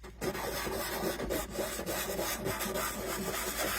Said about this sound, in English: all I'm going to do is start sanding this